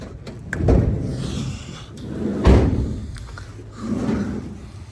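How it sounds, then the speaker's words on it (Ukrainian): Rear doors of a Renault Master 2.3 dCi van being tried: several close-up thumps, clicks and rattles of the latch and handle, with a heavier clunk midway, as the stuck doors refuse to open. "Давайте повідкриваємо всі двері."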